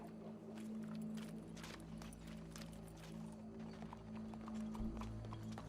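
Rapid clip-clop of horse hooves over a steady rumbling background, continuous and moderately loud, a horse trotting in Red Dead Redemption 2.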